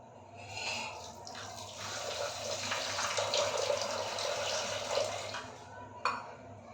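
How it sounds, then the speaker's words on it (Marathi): Water pours steadily onto sugar in a flat bowl for several seconds, a soft continuous splashing rush, ending with a brief knock. "ती साखर भिजेल इतपत पाणी घालायचं"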